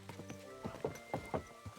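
Horse hooves clip-clopping on the ground in Kingdom Come: Deliverance II, a medieval setting, with several distinct quiet thuds spaced unevenly across a short stretch amid faint ambient sound.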